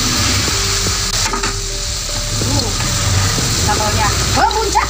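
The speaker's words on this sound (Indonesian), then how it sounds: "Aduk sampai meresap dan merata" Chicken feet and heads being stirred in a wok of spicy mercon sambal, a steady sizzle with scraping utensil strokes and clinks, while a person talks over the cooking.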